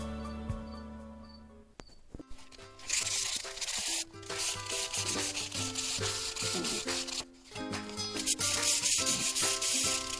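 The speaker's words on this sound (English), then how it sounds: "So the next step is we're going to start polishing this up" Metal tool part being polished on a buffing or sanding machine, giving a steady loud rubbing, grinding whir that runs continuously after a short quiet start, with a brief dip near the end.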